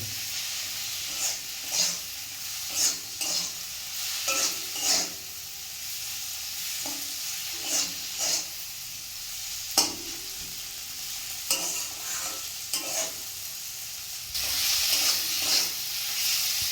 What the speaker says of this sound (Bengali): এবারে এটাকে ভালো করে নাড়াচাড়া করতে হবে